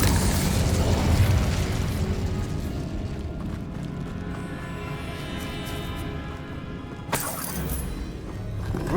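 An Incendio fire spell in Hogwarts Legacy bursts with a loud, roaring, fiery blast that stays heavy and crackling for several seconds, then ends in a sharp crack near the end.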